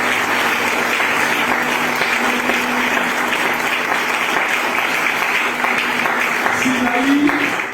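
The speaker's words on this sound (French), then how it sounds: "Je voulais qu'on donne une forte acclamation." A church congregation at a worship gathering breaks into loud, sustained applause and cheering, dense clapping throughout with faint voices mixed into the crowd noise.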